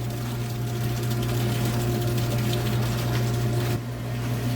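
Pump feeding water into a hydraulic lab bench, giving a steady, loud mechanical hum with a continuous rushing wash throughout and a slight drop near the end; nobody talks.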